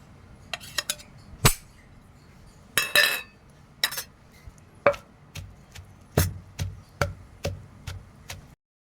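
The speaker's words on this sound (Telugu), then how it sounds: "ఎంతో టేస్టీగా ఉండి పుదీనా పచ్చడి నూరుతున్నాం." Mint chutney with dried chillies and tamarind being ground by hand on a stone outdoors, heard as a dozen or so sharp, irregular knocks and taps close by, spaced unevenly and growing more regular toward the end, with no talking.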